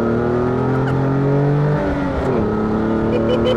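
A Morgan Super 3's three-cylinder engine drones steadily up close, its pitch holding, then sagging and shifting as the revs change, with no talking over it.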